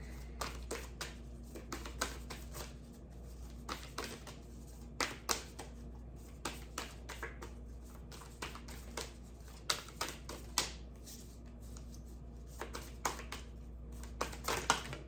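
Quick bursts of crisp card riffles and taps, repeated in irregular clusters, close and fairly quiet with no talking.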